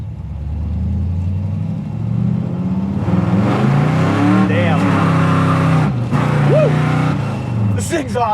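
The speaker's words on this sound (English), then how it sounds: "Man, this thing sounds good, doesn't it? It's a damn cool car." A 1979 Pontiac Trans Am with a Hurst shifter rumbles loudly up close, its engine note rising and wavering through several revs while people talk over it.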